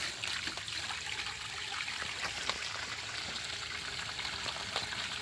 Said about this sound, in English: Let it drain for a minute because there's dirty water in there.